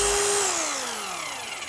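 A Bosch GBH 2-26E rotary hammer drill spinning down: a loud, steady motor whine that falls smoothly in pitch over under two seconds as it slows, heard alone.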